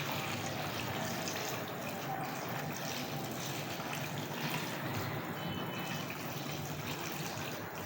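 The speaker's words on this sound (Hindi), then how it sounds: "इसमें पानी डाला जा रहा है कि जितना भिगोया जाए उतना बेहतर होगा।" Water pours steadily from a tap or jug over soaking dahi bhally, the fried lentil dumplings, in a home kitchen, making a continuous close, moderately loud rushing splash with no talk over it.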